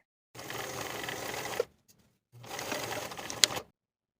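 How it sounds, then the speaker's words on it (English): A sewing machine stitches a welt pocket flap seam on a dress in two short close bursts separated by a brief pause. "I'm going to sew with a 3/8 inch seam allowance from one end of the flap to the other"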